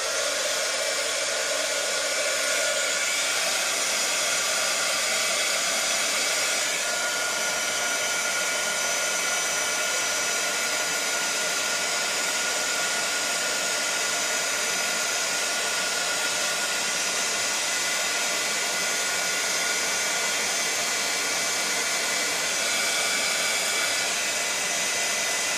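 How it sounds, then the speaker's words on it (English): A heat gun blows continuously and loudly at close range while warming a watercolor card, a steady harsh roaring hiss that barely changes throughout. "Let me grab my heat gun here."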